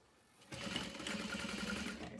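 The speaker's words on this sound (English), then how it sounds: "I'm gonna hold these two pieces together, sewing all the way down" A sewing machine runs steadily, stitching two bag pieces together along a seam in one continuous close hum after a brief quiet start.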